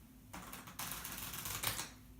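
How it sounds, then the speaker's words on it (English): A deck of playing cards is shuffled close up during a late-night magic trick, giving two quick riffles of rapid, crisp fluttering clicks, the second longer, with a brief gap between them. "we shall shuffle it in over here"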